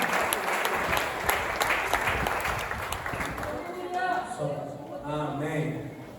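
A church congregation claps steadily in a dense, loud wave of applause. The clapping fades after a few seconds while a voice begins speaking.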